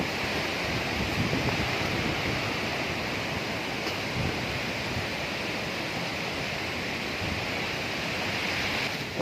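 Typhoon Odette's strong wind roars as a dense, steady rushing noise, loud and unbroken throughout, with no voices.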